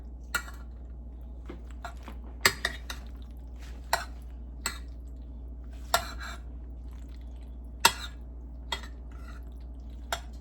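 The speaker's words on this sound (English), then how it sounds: "Then we're gonna give this a little mix." Onion powder is mixed into macaroni and cheese, with wet, sticky squelches and sharp clicks of a utensil against the dish coming at an irregular pace over a steady low hum.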